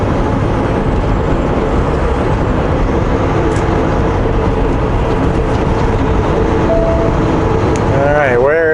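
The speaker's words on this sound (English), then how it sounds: "Co-op fuel truck is turning off." A Co-op fuel truck turning off the highway, heard as a loud, continuous heavy engine and road rumble throughout, with a thin rising whine near the end.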